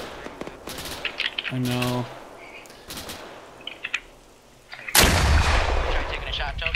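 A Carl Gustav anti-tank weapon fires in ARMA 3, a loud broadband blast near five seconds with a rumbling tail, after sparse game sounds and a brief spoken voice.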